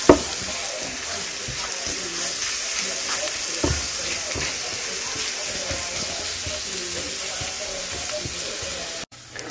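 Fennel fries in oil in a pan with a steady, close sizzle and occasional scraping stirs, then cuts off abruptly just before the end.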